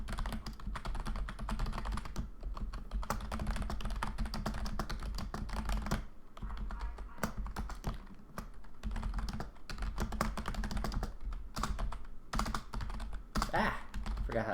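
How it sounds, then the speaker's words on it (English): Rapid clicking keystrokes on a computer keyboard, continuous close typing with a few short pauses, with no talk over it. "Forgot how to type all of a sudden."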